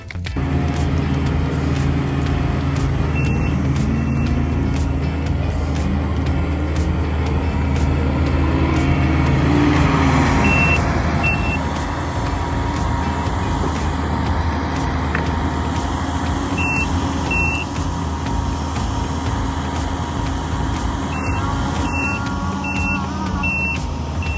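A skid steer runs with a steady, loud engine rumble on a farm during brush burning, while its high reversing beeps sound in repeated short bursts.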